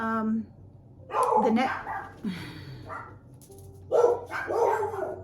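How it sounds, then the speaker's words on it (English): A dog barks several times nearby in short, sharp bursts spread across the moment, with a person talking at times between them. "the dog started barking just now while I was talking about the movie again"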